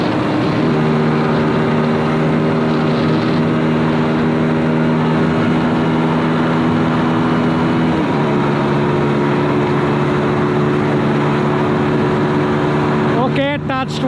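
A Zontes G1 ZT 155 motorcycle ridden fast, its engine droning loudly and steadily with a pitch shift partway through, wind rush throughout, and a burst of rattling near the end.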